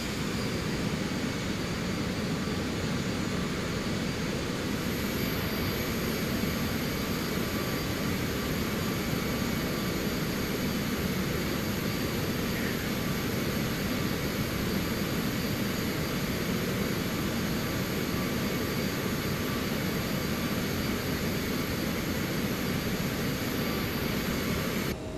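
A steady, continuous jet engine roar from an airliner in a flight simulator, flying from KLGA to KGSP with the throttle pulled back, a dense even rumble with a faint high whine above, unbroken and without talk.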